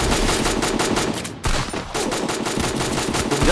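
Gunfire in the Free Fire video game, heard as a steady rapid stream of loud automatic shots with one brief break, continuing nonstop close up.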